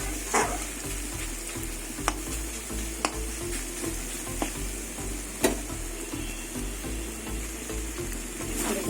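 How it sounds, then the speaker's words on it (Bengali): Vegetables frying in oil for a Bengali chorchori, a steady crackling sizzle close by, broken every second or so by sharp clacks of a spatula stirring against the pan. "ভাজতে ভাজতে তেল ছেড়ে দিয়েছি"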